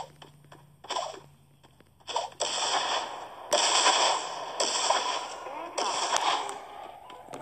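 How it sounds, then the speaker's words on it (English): Grenades are thrown and burst in a shooter video game, a few sharp broadband blasts followed by sustained rumbling bursts, loud and close, with faint talk underneath. "Let's throw some grenades."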